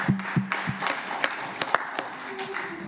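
A church congregation claps and cheers in scattered bursts of hand claps mixed with voices, fairly close and moderately loud, with sharp individual claps standing out over a murmuring crowd.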